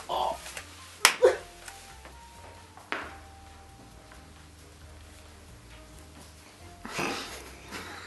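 A single sharp hand clap marks the start of a film take on a flight control deck set, followed by faint room tone, a couple of small knocks and a short burst of noise near the end.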